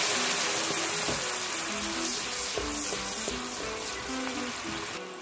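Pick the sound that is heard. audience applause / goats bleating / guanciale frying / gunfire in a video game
guanciale frying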